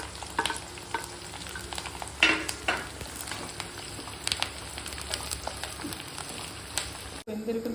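Onion, garlic and curry leaves frying in a pan make a continuous crackling sizzle broken by sharp stirring clatters, with a louder scrape early on. Everything is heard up close.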